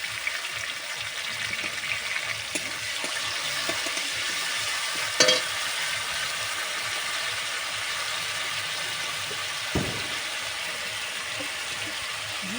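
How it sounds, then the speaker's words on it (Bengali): Gandal leaf paste being stirred and fried with onion in a pan: a continuous moderate sizzle with soft scraping stirs throughout and a couple of brief clinks, no talking. "নাড়তে নাড়তে ওর মধ্যে আমি গাঁদাল পাতাটা দিয়ে দেবো"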